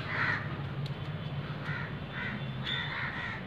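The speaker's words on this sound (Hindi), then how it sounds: "दोस्तों कुछ कौए अल्टीमेट इस मौसम के मजे ले रहे हैं ये सारे।" Several crows caw in repeated bursts outdoors on a foggy, bitterly cold day in Meerut, carried over a steady background rumble of the open street.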